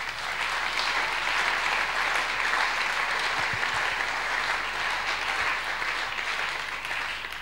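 A church congregation applauds during a sermon, a loud, steady wash of many hands clapping that holds without a break from start to finish.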